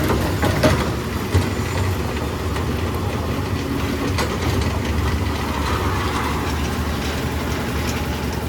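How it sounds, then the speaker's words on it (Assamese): A generator engine runs at a construction site during roof concrete casting, a steady close drone that holds even from start to end with a few faint knocks. "জেনেৰেটৰ লৈ আনিলোঁ, জেনেৰেটৰ লগাই দিলোঁ চব।"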